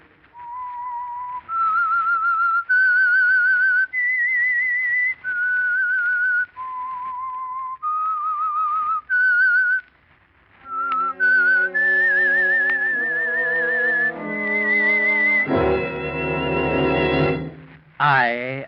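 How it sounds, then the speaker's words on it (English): A lone whistler performs the eerie theme melody of The Whistler radio mystery program, slow sustained notes rising and falling in a clear tune, followed by a richer orchestral passage that swells to a brief loud chord. "That whistle is your signal for the Signal Oil Program"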